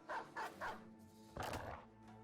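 War dogs in the video game Battle Brothers give several short, nearby barks, three quick yaps followed by a longer bark and a fading whine.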